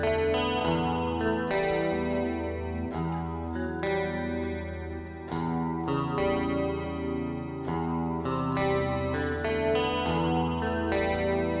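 Processed music with sustained chords and notes smeared by delay-style repeats and echoes from a Savant Audio IM90 plugin recreating the 80s Publison Infernal Machine, steady and fairly quiet throughout.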